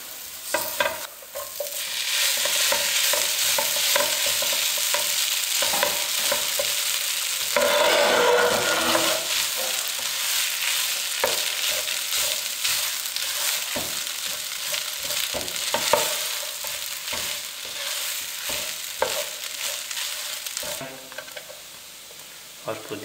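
Spiced potato filling with garam masala and mint is stirred in a pan, with continuous scraping and stirring over a soft sizzle and irregular clinks of the spoon against the pan.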